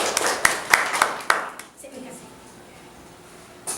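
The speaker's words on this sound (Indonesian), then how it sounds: "Kita beri aplaus kepada" A small audience claps after a group presentation, a short burst of sharp hand claps with a few distinct strikes, fading into quiet room noise, then a brief rise at the end.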